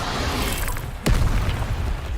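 In Hogwarts Legacy, an Incendio fire spell bursts with one loud whooshing blast that rises abruptly over dense game background sound and lingers as a rumbling roar.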